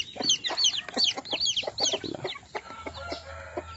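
Native chickens in a small yard cluck and chirp in quick overlapping calls, busy and close, with a low hum underneath toward the end and no one talking.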